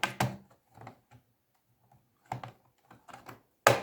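Bottom case of an HP 15-R214NT laptop being pried open: sparse plastic clicks and ticks in small bursts, ending in one sharper snap, close and quiet between them.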